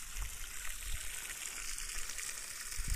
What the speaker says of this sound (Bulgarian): Виж как водата извира директно от реката под налягане.